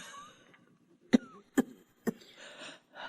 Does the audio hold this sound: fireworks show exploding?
no